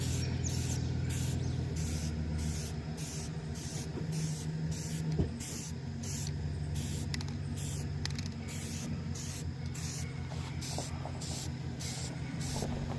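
Spray paint hisses in short rhythmic bursts as a final coat goes over a stencil on shooting targets, steady repeated pulses heard close with faint background noise.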